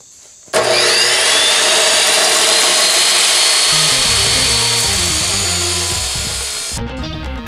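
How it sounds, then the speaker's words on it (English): A drop saw slices a square cut through bumper support stock, a loud continuous whining grind starting abruptly and holding for about six seconds before the blade spins down, with no talking. "I was attempting to use my drop saw to get a square cut on the same material I had used before to make the previous bumper support."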